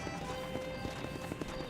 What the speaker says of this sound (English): This is my horse now, I guess.